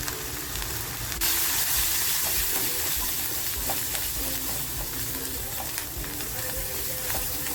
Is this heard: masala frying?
yes